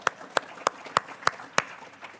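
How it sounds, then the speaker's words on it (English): A small, sparse round of applause at a golf championship press conference: about seven evenly spaced, distinct claps, fairly faint and close, fading at the end. "A little round of applause for our man over there from the Florida Times-Union."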